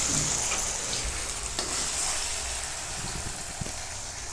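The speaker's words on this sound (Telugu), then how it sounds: "మళ్ళీ అదే నూనెలో గోంగూర వేపుకుందామండి" Gongura leaves frying in hot oil, reused from cooking tomatoes, for gongura pachadi: a steady, fairly loud sizzle with occasional stirring scrapes and small pops throughout, no voices.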